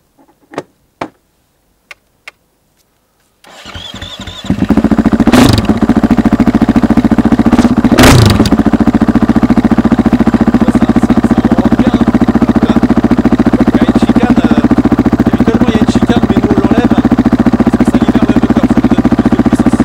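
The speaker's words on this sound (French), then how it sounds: "Vous pouvez démarrer la moto, s'il vous plaît ?" An enduro motorcycle starts after a few sharp clicks and knocks, catching at once and settling into a loud, steady, close idle that runs on with a couple of brief blips.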